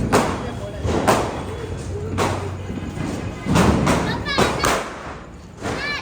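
Diwali firecrackers go off outdoors in a string of sharp, irregular bangs and thuds spaced about a second apart, with people, including children, talking and reacting throughout.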